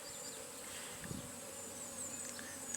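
Honey bees buzz steadily at a full-sized hive holding a colony moved up from an overwintered nuc, a continuous close hum with no talk.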